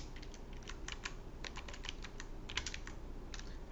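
Quiet, rapid keystrokes tap on a computer keyboard in a continuous, uneven run of light clicks, close by with no talk.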